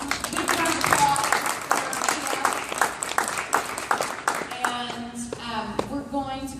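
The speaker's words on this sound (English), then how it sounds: "So big round of hands, big round of applause." Meetup crowd at Rackspace in San Antonio clapping together, close and loud, with voices talking and laughing over the applause as it thins toward the end.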